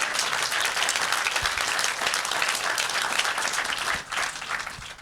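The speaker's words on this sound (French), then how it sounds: "vous pouvez les applaudir très fort" An audience at a 2024 festival ceremony breaks into sustained applause, dense clapping from a large crowd that dips briefly near the end before continuing.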